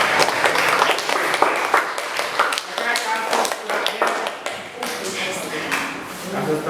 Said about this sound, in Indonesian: kita tepuk tangan dulu buat teman-teman yang tadi